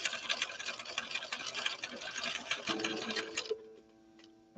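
A 1970s Viking Husqvarna 6030 sewing machine sewing a blind hem stitch, a fast close mechanical ticking rattle that stops abruptly, leaving a faint hum.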